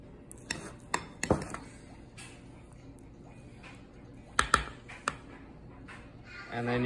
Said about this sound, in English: And then you just mix it up real good.